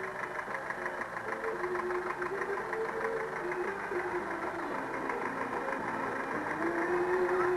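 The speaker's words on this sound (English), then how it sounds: "And John Egan from Ardfort, County Kerry, in his 1946 Farmall Cub." A 1946 Farmall Cub tractor running at an outdoor festival parade, its engine giving a steady, even mid-pitched putter that holds at moderate distance throughout, with no one speaking.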